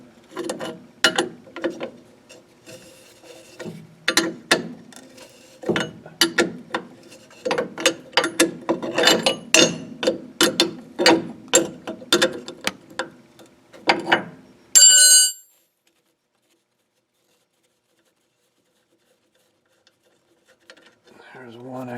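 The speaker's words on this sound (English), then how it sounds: "I had to use a swivel socket on that one to break it loose." A ratchet fitted with a swivel socket clicks rapidly in dense bursts, close and crisp, loosening a bolt on a Ford drum brake, then stops abruptly into near silence.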